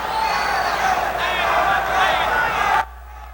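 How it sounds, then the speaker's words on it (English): Boxing crowd in an arena, fans chanting for fighter Armando during a Palomino v. Muniz bout, a dense, loud, sustained roar of voices that cuts off abruptly near the end. "Crowd chanting for the hero now, Armando."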